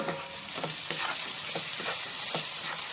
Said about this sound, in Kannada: ಇವಾಗ ಇದಕ್ಕೆ ಟೊಮೆಟೊ ಹಾಕ್ಕೊಂಡು ಒಂದು ಸ್ವಲ್ಪ ಹೊತ್ತು ಫ್ರೈ ಮಾಡೋಣ